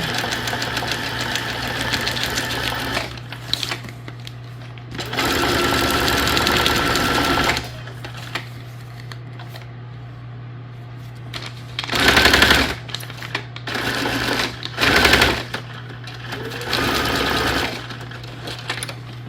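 A sewing machine, a little rough from heavy use, runs in repeated bursts of steady rattling stitching, loud and close, separated by quieter pauses with a constant low hum underneath.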